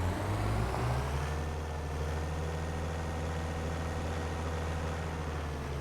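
Car engine in Farming Simulator 25 hauling a water tank on its hitch, a steady low drone that holds evenly at close range throughout, with no talking.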